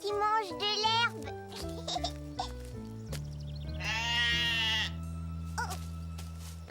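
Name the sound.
sheep bleating in cartoon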